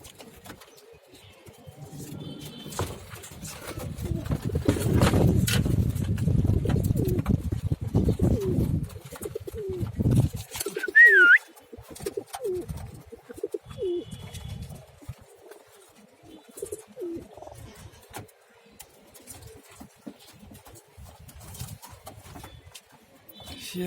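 Young pigeons coo softly at close range, with a denser burst of fluttering and scratchy activity early on, then scattered quiet calls and rustling; no speech.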